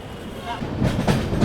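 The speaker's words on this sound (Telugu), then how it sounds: "ఇక్కడ నుంచి మన ట్రైన్ కొండలెక్కుతుంది." A passenger train on the Araku hill route from Visakhapatnam rumbles and clatters steadily along the track at close range, with wheel noise building slightly toward the end.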